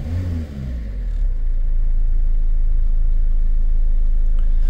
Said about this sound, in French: Donc maintenant, moteur démarré, on accélère.